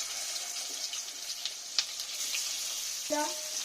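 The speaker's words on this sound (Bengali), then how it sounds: "এবার একই তেলে আমি এই মাছগুলো সব ভেজে দেবো একটা একটা করে" Pomfret fish pieces fry in hot oil with a steady, close sizzle, a few sharper crackles and a brief clink near the end.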